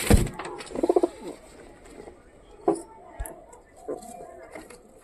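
Giribaz pigeons cooing in a loft, a few soft throaty coos near the start and scattered quieter calls after, close by, with someone talking over them.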